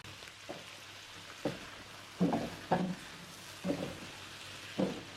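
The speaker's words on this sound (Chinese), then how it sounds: "接着翻炒，把配料的香味都慢慢翻炒出来" Chicken legs glazed in caramelised sugar are stir-fried with dried chili, cinnamon, bay leaves, star anise, ginger and garlic: a quiet, steady sizzle broken by about six short scraping bursts from the spatula.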